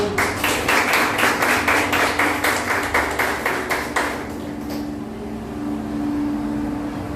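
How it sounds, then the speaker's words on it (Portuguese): A church congregation at a worship service claps in quick rhythmic bursts for about four seconds, then the clapping fades into a lower murmur and background tone. "Aplauda o Senhor."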